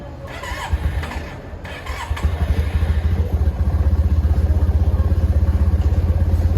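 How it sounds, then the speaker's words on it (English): A Yamaha TMax 500cc scooter with a failed charging system cranks on a jump start, then catches and settles into a steady, close, throbbing idle. "the bike is starting."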